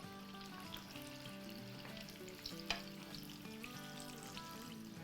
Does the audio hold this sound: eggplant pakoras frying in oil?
yes